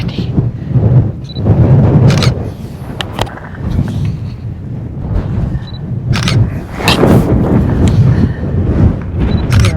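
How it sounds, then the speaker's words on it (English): Strong wind buffets a high mountain lookout in northern Arizona, a loud roaring rumble that surges and gusts against the microphone, with brief voices mixed in. "Very windy. Very windy."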